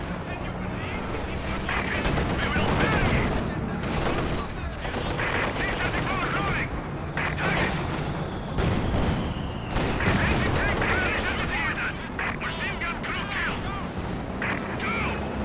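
Bursts of machine gun fire in a Company of Heroes 2 4v4 battle, repeated rattling volleys mixed with other gunfire and distant explosions, continuous and fairly loud under a voice talking over the action.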